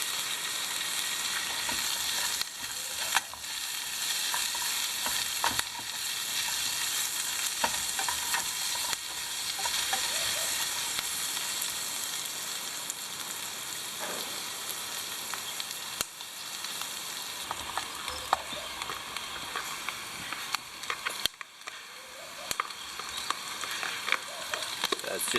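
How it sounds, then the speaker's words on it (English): Bacon and mushrooms fry in an Army Trangia pot, a continuous close sizzle with occasional scraping stirs and clinks, no talking. "Then we're going to fry off the mushrooms and the bacon"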